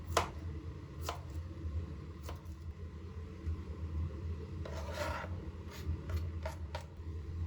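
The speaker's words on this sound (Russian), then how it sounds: "Вначале режу на соломку, а затем на кубики." A knife cubes carrot on a cutting board in sharp, irregular strikes, some quick pairs and scattered single cuts, over a steady low background hum.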